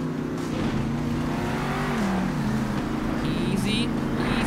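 Monster trucks racing in Monster Jam Steel Titans, a steady roaring engine drone holding throughout with shifting pitch, while a person talks over the game.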